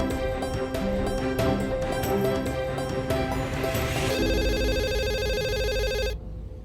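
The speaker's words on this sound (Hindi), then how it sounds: "सर, एडवोकेट कावेरी सिन्हा का फोन है" A telephone rings in a Hindi television drama, a loud continuous electronic ringing pattern that shifts partway through and cuts off abruptly near the end, with no talk over it.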